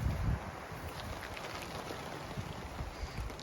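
Torrential wind and rain lash a solo camping tarp at a wild camp, a dense continuous hiss of drops with gusty low rumble buffeting close to the microphone, no voices.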